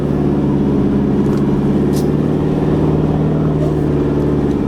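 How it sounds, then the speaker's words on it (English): A 4WD descending a steep bush track in first low range with no brakes, the engine doing the braking, gives a steady, loud low drone with a constant hum and faint clatter throughout. "It's coming down in first low, no brakes. The engine's doing all the braking."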